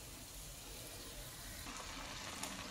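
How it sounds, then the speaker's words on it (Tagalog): Shrimp paste (alamang) sautéing in a pan among string beans and eggplant for kare-kare, a soft continuous sizzle and frying crackle, faint and close, with no talk. "Ayan na po ang ating alamang. Ayan, atin na pong ginigisa."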